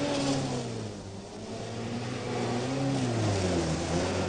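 A UAZ off-road vehicle drives with a steady, droning engine hum that rises and falls slightly in pitch, loud and continuous throughout with no talk.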